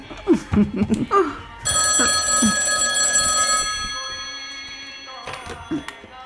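A mobile phone rings indoors in a Malayalam film scene, a steady electronic ringtone lasting a few seconds that stands out clearly, with voices talking just before it starts and again as it ends.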